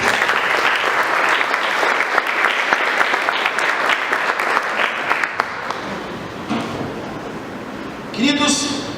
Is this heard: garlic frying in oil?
no